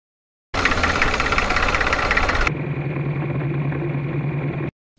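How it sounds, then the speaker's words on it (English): A tractor's internal combustion engine starts abruptly and runs loud and steady with a rough, knocking rumble, then drops to a lower, smoother idle before cutting off. "I'm watching the working of the IC engine of a tractor"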